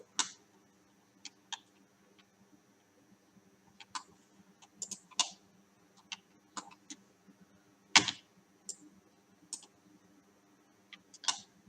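Keyboard keys clicking while working in Blender: sharp, scattered taps at an irregular pace, close and fairly crisp over a quiet background hum.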